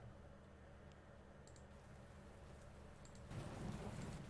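Steady rain ambience hisses continuously at a faint level, with a deeper rumbling swell toward the end like distant thunder.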